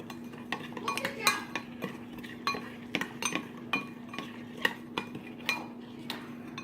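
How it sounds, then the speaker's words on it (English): A spoon scrapes and clinks against a pot while a pork dinner with potatoes, carrots and onions is briefly stirred, making quick irregular taps over a steady low hum. "Give it a quick stir."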